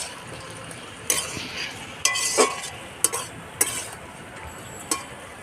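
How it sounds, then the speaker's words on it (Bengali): Spiced ridge gourd and potato curry frying in a pan, with a soft sizzle under several sharp stirring scrapes and clinks of a spoon against the metal, close by and without talk. "মশলাটা দিয়ে এবার একটু ভাজা ভাজা করবো তরকারিটা"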